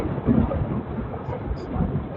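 Heavy rain pours steadily in a dense, noisy wash with low rumbling beneath, muffled as if heard through a low-quality recording.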